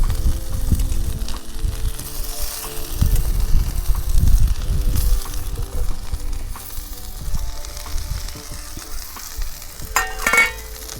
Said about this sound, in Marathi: आता मी ना भाजी टाकून घेते कापून घेतलेली